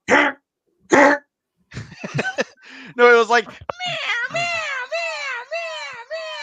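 Someone imitates a plastic dinosaur blaster toy with two harsh bursts, then a long run of loud, wailing, cat-like cries. A few spoken words come first.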